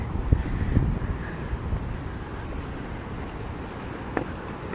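Steady wind gusting across the microphone at Yehliu Geopark, Taiwan, a low rumbling roar with a few faint knocks, no voices.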